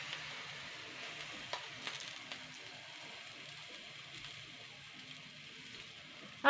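Small eggplants stuffed with an egg filling frying in oil in a pan over medium heat, a steady soft sizzle with a few faint clicks, close and fairly quiet.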